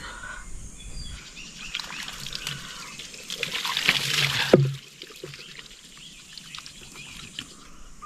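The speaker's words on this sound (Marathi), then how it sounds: "मस्तपैकी आता आंघोळ करून झाले" Water splashes and pours during an open-air bath at a village well, a steady wet wash that swells into a louder gush around the middle before falling back to quieter trickling, with faint birdsong in the background.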